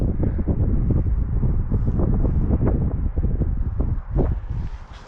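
Strong wind buffets the microphone on a foggy hiking trail in central Washington, a loud, continuous low roar with gusty swells that eases slightly near the end.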